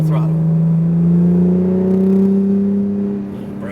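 An Acura NSX pulls away at full throttle, its engine note a loud, close drone that climbs steadily in pitch before easing off at the end.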